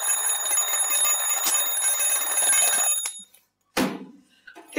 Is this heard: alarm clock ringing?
yes